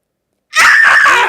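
A person lets out a sudden loud scream after near silence, sustained and raw for under a second, close and dominant.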